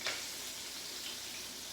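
Chicken pieces fry in a pan at home, giving a steady, close hiss and crackle of hot oil that holds evenly throughout with no talking.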